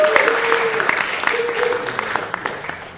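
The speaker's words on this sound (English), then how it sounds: "Give him a warm round of applause." A studio audience applauds a guest arriving on a comedy talk show set, a dense wash of clapping that holds steady for several seconds, with a voice speaking over it.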